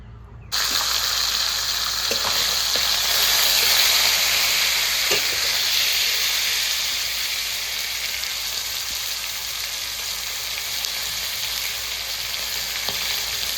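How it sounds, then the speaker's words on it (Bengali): Fish heads sizzle and crackle in hot oil in a wok, a loud, continuous frying hiss up close with a few sharp pops and spits. "কড়াই তেল গরম হয়ে গেছে, মাছের মাথাগুলো দিয়ে ভেজে নেব।"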